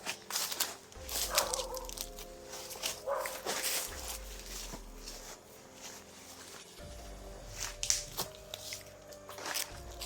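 A dog barking outdoors, several short barks spread irregularly over ten seconds amid footsteps and rustling, moderately distant and fairly faint.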